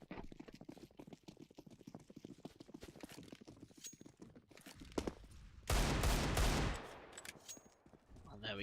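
Rapid Five-seveN pistol gunfire in a competitive shooter match, heard as a dense, loud burst of shots near the end, after a stretch of quick, rhythmic footstep-like taps and game noise.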